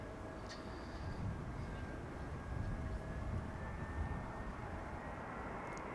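EasyJet Airbus A319 arriving at Amsterdam Schiphol, a distant, steady jet engine roar with a faint whine held across the whole stretch, no talking.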